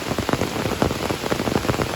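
Hard rain falls on a cow field as a dense, steady patter of drops close by, with no voices.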